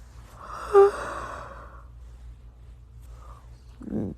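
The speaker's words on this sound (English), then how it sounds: "I can't stop yawning." A long, breathy yawn swells and fades close to the microphone, followed by a short exhale.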